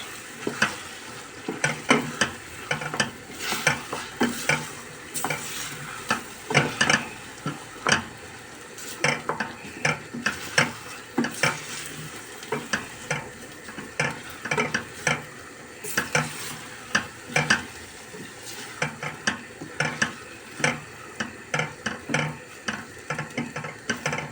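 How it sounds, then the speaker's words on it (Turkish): Bulgur being stirred and roasted in a pan for a spicy bulgur pilaf, a spoon scraping and clinking steadily against the metal over a constant soft sizzle, with no talking. "2-3 dakikada bulguruyla kavuruyorum."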